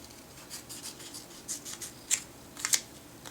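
Scissors snipping through a paper template, with soft rustling followed by a few sharp, close cuts clustered near the end, each a brief crisp snip.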